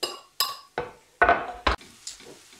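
Pieces of aubergine are tipped into a cooking pan in a series of about six sharp clinks and clatters, close and irregular, with no talk.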